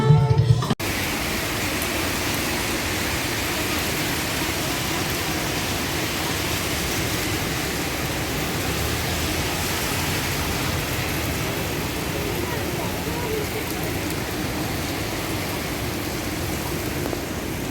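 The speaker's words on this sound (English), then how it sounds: "See, it's really raining outside over here" Heavy rain pouring outside a town hall station, a steady dense wash of noise that holds evenly throughout, loud and close, after a brief clattering handling sound at the very start.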